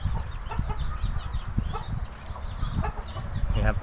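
Wild red junglefowl in Thai forest giving repeated clucking calls at close range over a rustling, noisy background, with faint voices now and then.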